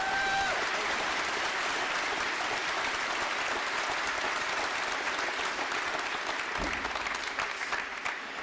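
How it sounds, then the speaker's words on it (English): An audience at a Navy recruit training command ceremony applauds two midshipmen, a dense, sustained round of clapping that carries on steadily for several seconds before thinning slightly at the end. "let's give these two midshipmen a round of applause."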